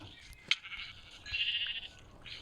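Sheep bleating in a multiplayer survival video game on a server, short nasal bleats rising over a quiet game background, with no talking.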